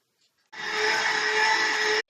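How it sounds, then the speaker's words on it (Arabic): A blender mixing eggs, sugar and oil whirs up abruptly and runs at a steady high-pitched hum for about a second and a half, then cuts off. "وهنضربهم مع بعض كويس في الخلاط"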